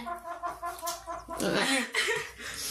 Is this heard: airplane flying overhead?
no